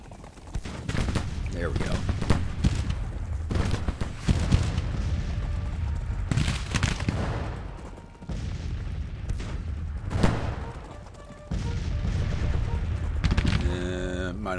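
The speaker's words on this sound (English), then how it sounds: "Alright, boys, you can start firing now." Infantry volleys in a Civil War strategy game, with ragged bursts of musket fire crackling and booming one after another, loud and dense, and a voice briefly speaking over the shooting.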